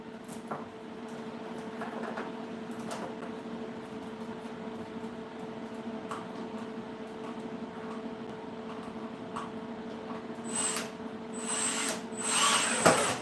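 Power driver running screws into 304 stainless steel sheet, a faint steady whir over a low hum, with brief louder bursts of grinding near the end and no talk.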